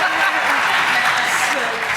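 Audience at a science fiction panel breaks into steady applause, a dense wash of clapping that fills the whole moment without pause.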